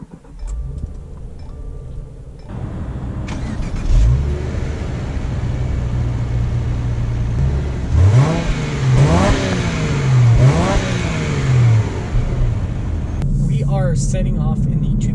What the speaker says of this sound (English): Setting off in the 2019 Subaru Legacy